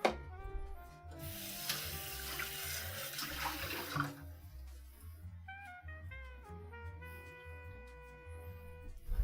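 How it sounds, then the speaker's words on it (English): Tap water gushes into a pot for a few seconds as it is rinsed out, a close splashing rush that then stops, while soft tonal background music plays throughout. "I'm rinsing out this pot because it's the one I want to use to strain the beans out with."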